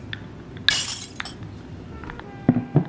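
Glasses clink together in a toast at a shared meal, a few bright chinks and taps in quick succession, with a couple of louder knocks near the end over low background noise.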